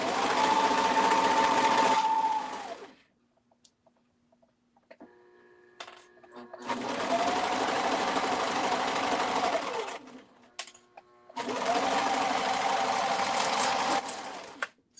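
A domestic sewing machine stitches a pocket in three steady bursts of rapid mechanical whirring, each lasting two to three seconds, separated by quiet pauses filled with faint clicks and handling of the machine.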